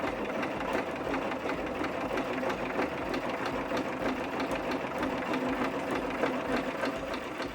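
A sewing machine runs steadily while stitching the edge of a quilted Easter pillow, a continuous close mechanical whir with rapid fine ticking and no talk.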